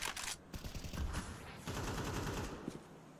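Rapid SMG bursts ring out in Counter-Strike 2 as a player holds the A site, with dense, rattling gunfire in quick repeated volleys from a distance.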